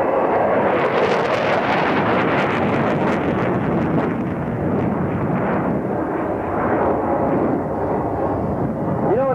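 An airshow jet pulls up overhead in a loud, sustained roar of engine noise mixed with wind buffeting the microphone, filling the whole span without a break.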